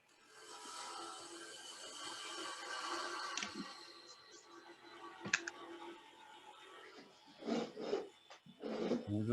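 A lathe gouge cuts along a spinning wooden shaft while turning a cross, giving a soft continuous scraping hiss with occasional clicks and rougher bursts of cutting noise toward the end, fairly quiet and close.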